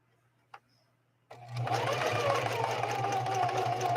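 A Singer 4411 heavy-duty sewing machine stitching a blind hem pattern starts after a brief click and runs steadily and loudly with a rapid, even mechanical chatter.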